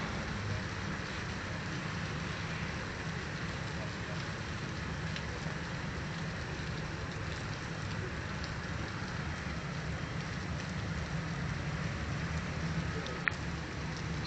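Fairly heavy rain falls on a road in Ohio, a steady, even hiss of water with a faint background rumble, continuous and unvarying from start to finish.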